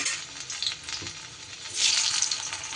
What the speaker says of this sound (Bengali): এবার ওই তেলে আমি মান কচুগুলো ভেজে নেব